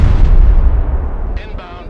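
Heavy bomb explosions from a close air support strike rumble loudly and continuously in the PC war game Broken Arrow, a dense low roar with brief crackling bursts near the end.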